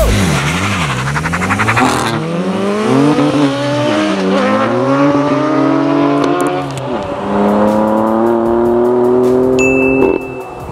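A BMW S1000RR motorcycle accelerating hard, its loud, close engine climbing through rising revs with sharp gear changes, a brief dip mid-run, then another long high-pitched pull before cutting off.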